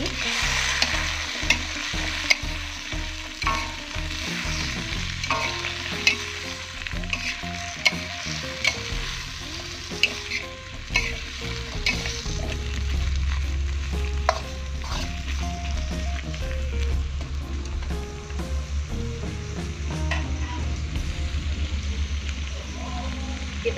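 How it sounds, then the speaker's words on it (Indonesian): Green eggplant frying and sizzling in a pan while being stirred, a steady hiss with repeated scraping strokes and faint background music-like tones throughout. "Kita aduk kembali."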